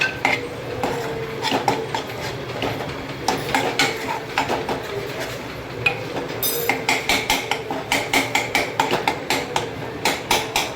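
Paneer bhurji with garam masala is stirred in a pan, a spoon scraping and clinking against the metal in a steady rhythm that grows into rapid repeated taps near the end, close and fairly loud with no talking.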